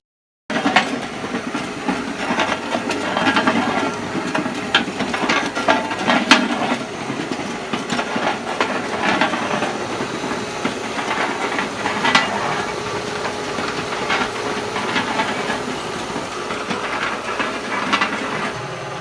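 A homemade sand muller built from farm parts runs with a whole bucket of Petrobond. It gives a continuous mechanical rattle and scraping churn, with rhythmic clanks and a hiss over a low hum, steady and close throughout.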